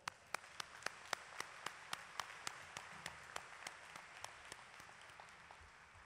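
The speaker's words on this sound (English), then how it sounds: "Now, he deserves an applause." Sparse, distinct handclaps from a few people at a university medical school graduation ceremony, roughly two per second, crisp and fairly quiet, with no voices.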